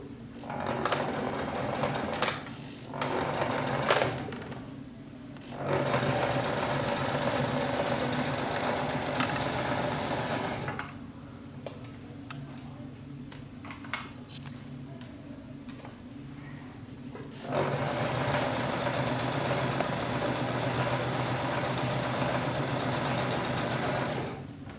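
Sewing machine stitching fabric just above a zigzag line, a loud, steady mechanical whirring in long runs separated by short pauses and a quieter stretch in the middle.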